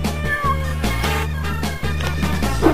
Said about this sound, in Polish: to kotki!